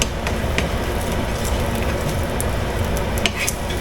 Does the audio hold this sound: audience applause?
no